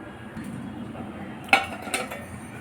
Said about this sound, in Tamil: இந்த மூடி வச்சுருவோம்.